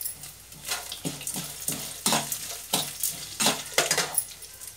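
Curry leaves, mustard seeds, cashews and dried red chillies crackle in hot oil, with rhythmic scrapes of a spoon stirring the pan, close and fairly loud, about ten strokes.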